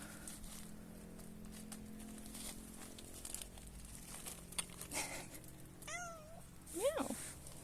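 A cat meows twice, short and close, in an orange orchard after a hurricane, against a quiet outdoor background with faint rustling.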